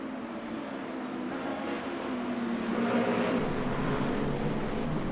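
Hypercar engine at steady high revs racing on a wet Monza circuit in Le Mans Ultimate, a continuous loud drone with a tonal whine that rises and shifts slightly, no voices over it.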